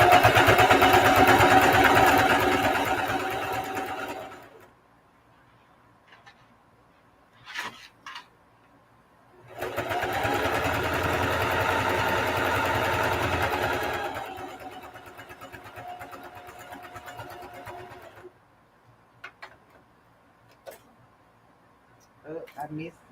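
A sewing machine stitches a mini duffle bag in two long buzzing runs separated by quiet gaps, with a person talking and faint handling noises in between.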